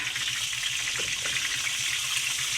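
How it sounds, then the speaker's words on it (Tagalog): Tilapia frying in oil over a wood fire at a rural home gives a steady, close sizzle and crackle that runs throughout without talk. "So, ngayon, ako ang nagpiprito. Tilapia ang ulam nila."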